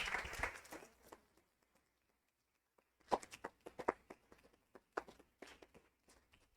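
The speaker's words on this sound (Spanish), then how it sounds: "denle un fuerte aplauso al Señor" A church congregation gives scattered, uneven applause after an evangelist's call to praise; a loud burst at the start fades to near silence, then a second round of sharp, spaced claps rises and tapers off, fairly close.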